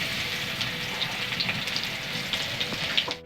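Garlic sizzles and crackles in hot oil with a bay leaf, a steady bright frying hiss with scattered pops, close and fairly quiet with no talking.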